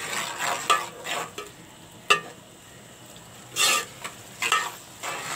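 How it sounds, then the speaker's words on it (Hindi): Kebabs being stirred and mixed into beaten egg for a potato-and-egg dish, with soft scraping, sloshing strokes at irregular intervals, fairly close and moderately quiet, no talk. "अब हम अपने कबाबों को इसमें अच्छे से मिक्स करेंगे"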